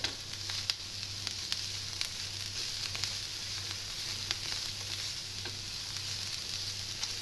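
Sliced onion toasts lightly in a pan with a soft, steady sizzle and occasional small pops and crackles, fairly quiet throughout.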